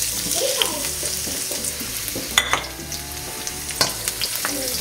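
Onion and ginger sautéing in a pan, a continuous close sizzle with clinks and scrapes of a utensil stirring, a couple of louder knocks partway through, no voices.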